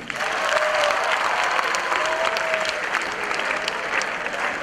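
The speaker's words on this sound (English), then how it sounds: "Please clap for all of them." An audience claps steadily and loudly for several seconds, a dense wash of hand claps filling the room with no pause.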